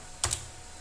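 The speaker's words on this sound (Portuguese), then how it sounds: "Apertamos Enter novamente" A single Enter key press on a computer keyboard during a Debian 8 installation gives one sharp, close click with a quick double tap, set against faint steady room hiss.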